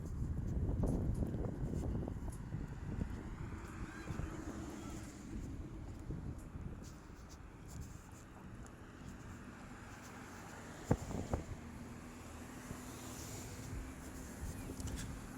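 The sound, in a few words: wind blowing outdoors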